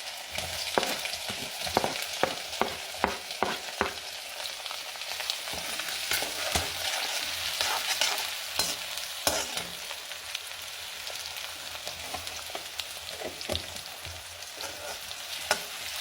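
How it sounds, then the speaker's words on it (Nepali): Onion, garlic and ginger frying in hot oil in an iron wok, a steady close sizzle broken by frequent sharp crackles and spatters, fairly loud and continuous with no talking. "लसुन अदुवा हाल्नु।"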